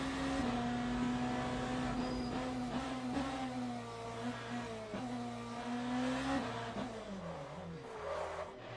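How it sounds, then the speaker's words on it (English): The number 15 BMW GT3 race car at Fuji rolls slowly toward its pit box, a steady low engine drone with gear changes and shifting revs, close and continuous. "And this is the number 15 BMW making their way to their pit box."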